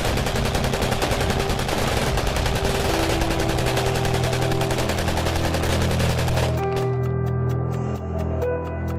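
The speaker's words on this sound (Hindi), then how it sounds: "नशे में धुत गनर और अजीत सिंह के चेले हवा में फायरिंग कर रहे थे" Drunk gunmen fire repeatedly into the air at a late-night birthday party, with dense bursts of gunshots under music that keeps going after the shooting stops.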